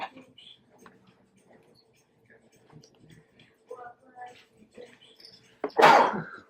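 A single loud, sharp sneeze bursts out near the end, following a stretch of quiet, murmured speech and soft handling noises while tying a pheasant tail nymph fly.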